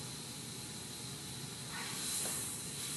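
Butter and grapeseed oil heat in a hot frying pan, giving a steady, faint sizzling hiss that swells slightly near the end.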